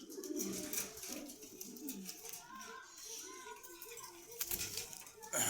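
Several pigeons, including grizzle and checker types, cooing in soft repeated rolling calls at a market in Dhaka, with some rustling and fluttering and faint voices nearby.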